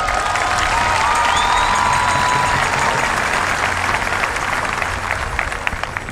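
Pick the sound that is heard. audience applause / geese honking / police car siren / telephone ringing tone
audience applause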